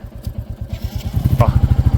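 A motorcycle engine putters rhythmically, growing louder as it approaches and passes close by on the Delhi–Katra Expressway, with no talking.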